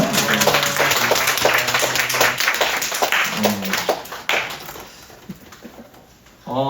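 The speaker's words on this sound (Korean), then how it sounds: "박수 한번." A church youth-service congregation breaks into sustained applause, dense and loud handclapping that carries on for several seconds before thinning out.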